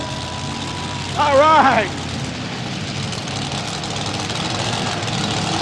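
Tractor-pull puller at a 1995 NFMS event in Louisville, Kentucky, running three Arius engines in a row: a broad, steady engine roar fills the arena throughout, with a brief announcer's voice over it early on.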